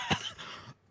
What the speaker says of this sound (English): I just cough.